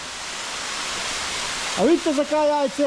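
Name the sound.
waterfall Slap Jajce on the Tolminka stream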